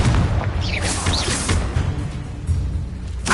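Confringo fire spell blasting in Hogwarts Legacy on PS5, deep booming impacts with whooshing bursts and rumbling tails, a couple of heavy hits in quick succession.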